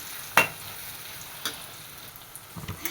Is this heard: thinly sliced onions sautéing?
yes